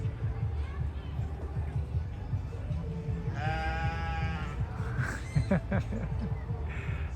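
Goats bleat repeatedly in the near distance over a steady outdoor murmur of voices and farm activity.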